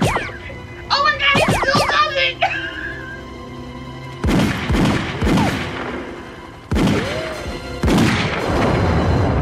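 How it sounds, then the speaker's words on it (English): A movie explosion blows up a helicopter, heard as heavy booming blasts in three loud bursts that roll and crackle, with voices and other sounds at the start. "That's how powerful that explosion was."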